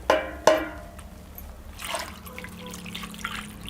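Water splashes and trickles into a bowl of sliced potatoes for chips, opening with two sharp clinks and then a steady, soft pouring that continues to the end.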